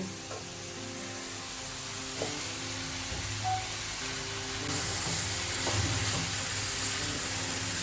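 Chicken meat sizzles steadily in a pan of cooked-down spice paste, a constant hiss of frying with occasional soft stirring scrapes, growing slightly louder partway through.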